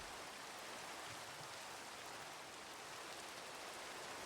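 Steady, even rain in the Minecraft video game, a continuous soft hiss of falling drops with no thunder, heard alone without talk throughout.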